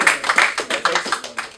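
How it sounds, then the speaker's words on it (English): A small audience claps in a loose, uneven burst of individual claps at a school anti-bullying event, fairly close and fading in and out over the short stretch. "give them a round of applause"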